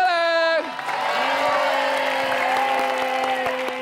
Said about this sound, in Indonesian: tepuk tangan semua sekali lagi boleh.